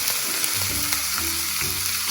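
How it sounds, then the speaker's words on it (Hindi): Vegetables for chilli chicken sautéing in a hot pan, a loud continuous sizzle with stirring scrapes, close and without talk. "इनको चलाएंगे जल्दी जल्दी ताकि ये हल्का सा सॉटे हो जाएं"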